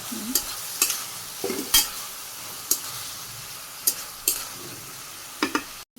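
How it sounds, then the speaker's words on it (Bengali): Prawns fry in a pan at a Bangladeshi village home kitchen, a steady sizzle broken by sharp scraping stirs of a spatula, several distinct strokes spaced unevenly, close and fairly loud. "চিংড়ি রান্না করে নিলাম সুন্দর করে ভাজি করে নিচ্ছি"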